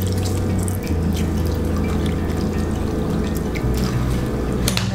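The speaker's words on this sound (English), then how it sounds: "Put some water in here." Water poured into a bowl to soak dried wakame seaweed in a home kitchen, a steady close splashing stream running alone for about five seconds.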